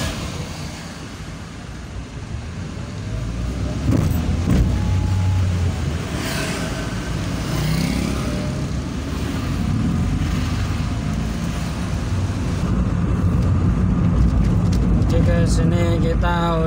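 Cars crawl along a congested road in slow, dense traffic, giving a steady low rumble of engines and road noise with talk over it.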